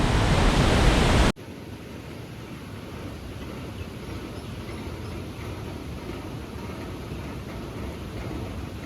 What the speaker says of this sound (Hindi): अभी भी कंटिन्यू बारिश बनी हुई है